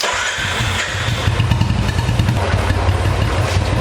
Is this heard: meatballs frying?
no